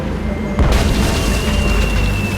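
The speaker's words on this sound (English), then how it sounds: "it's one of those spiffy new Hungarian easy-action cannons I've been begging Elaine to let me buy." A cannon fires a cannonball in the adventure game Tales of Monkey Island, a single deep boom landing after a quiet moment and trailing into a rumbling, noisy tail alongside a faint steady tone.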